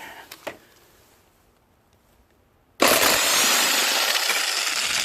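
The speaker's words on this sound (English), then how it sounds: "I'll have to use my impact to get that out." An impact wrench removing a nut on a Poulan Pro push lawn mower roars in loud and close after a few metallic clinks and a short lull, then hammers on steadily.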